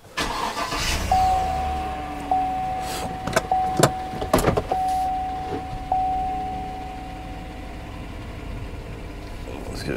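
A 2015 Chevrolet Suburban LTZ with fault code B172E starts up: a steady electronic chime tone runs through the first half alongside a few sharp clicks and thumps, then the engine settles into a low, even hum.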